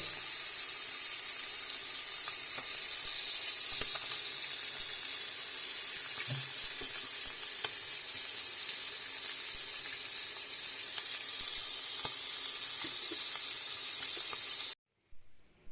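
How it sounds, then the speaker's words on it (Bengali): Churi fish frying in hot oil, a loud, steady hiss of sizzling that runs continuously for about fifteen seconds before stopping abruptly. "এই যে ভাজা শেষ ভাজা হয়ে গেছে"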